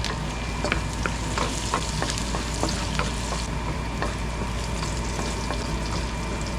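Garlic sautéing in a pan: a dense, steady close-up sizzle with intermittent scraping stir strokes, loud and continuous throughout.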